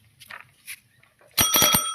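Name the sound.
bicycle bell ringing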